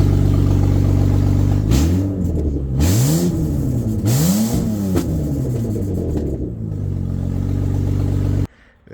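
A BMW E92 328i single-turbo drift build with a gutted interior revs up from idle, the engine climbing and falling through three sweeping throttle blips over a steady rumble before cutting off abruptly. The sound is loud, close and free of speech.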